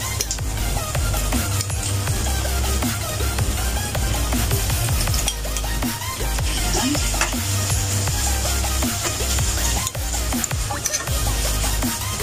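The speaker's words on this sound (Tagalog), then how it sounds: "Igigisa po muna natin itong ating sahog." Pork belly sautés in a pan for a zucchini, mushroom and black fungus dish, a continuous loud sizzle with frequent clattering and scraping from stirring throughout.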